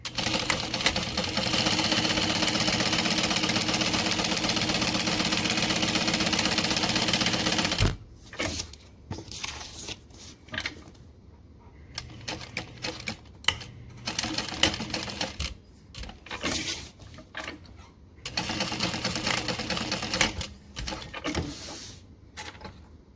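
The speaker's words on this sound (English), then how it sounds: "I'm sewing on a Juki DU 1181N. And mine has a servo motor." A Juki DU 1181N industrial sewing machine with a servo motor runs in a long, steady, loud whirring stitch. Shorter bursts of sewing follow, separated by pauses and handling sounds.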